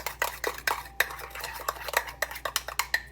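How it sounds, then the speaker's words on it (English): Brown sugar being stirred into a meatloaf topping in a bowl, a utensil scraping and clinking against the sides in quick repeated strokes, close and fairly clear with no talking. "And then give it a mix."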